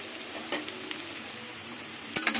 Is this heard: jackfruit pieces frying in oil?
yes